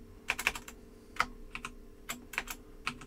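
Keys tapped on a computer keyboard while entering commands in a terminal during a software install, with scattered clicks arriving in short irregular bursts and pauses, close and fairly quiet, with no voices.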